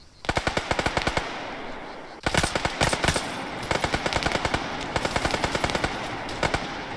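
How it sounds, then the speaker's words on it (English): Rapid automatic gunfire from the ARMA 3 video game, loud and close, arriving in a string of tight bursts separated by short gaps, with no voices over it. "Taking fire from the right."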